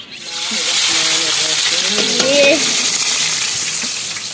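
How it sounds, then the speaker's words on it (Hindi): Spices roasting in a hot pan on a village cooking setup: a loud, steady hiss and sizzle swells and fades, with a brief voice audible in the middle. "अभी मिसाले की भुनाई करते हैं"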